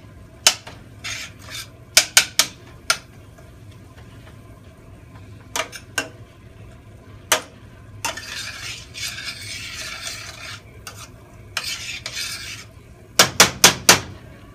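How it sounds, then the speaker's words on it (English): A utensil stirs ground beef and garlic in a pan, giving sharp metallic scrapes and clicks in clusters, including a quick run of taps near the end, over a low, steady sizzle. "Now you're going to stir this. And you're going to let the ground beef cook together"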